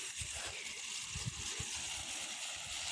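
Water flows from a farm irrigation pipe as a steady, faint rushing gurgle, continuous and unbroken over a few seconds.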